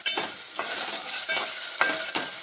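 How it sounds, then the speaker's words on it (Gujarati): Potatoes fry in hot oil with a constant bright sizzle, broken by rhythmic stirring strokes about every half second, close and fairly loud. "હવે આ બટેકા તેલમાં થોડાક ચડી ગયા છે"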